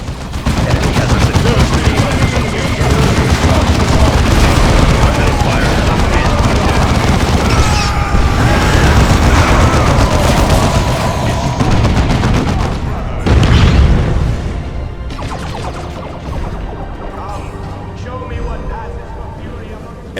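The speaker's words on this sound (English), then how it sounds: "That cannon blew open the gate!" A video game battle in Warhammer 40K Dawn of War 2 rages with dense cannon fire, gunfire and booming explosions, loud and continuous before easing near the end, while voices speak over the fighting.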